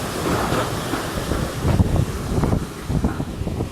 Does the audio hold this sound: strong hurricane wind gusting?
yes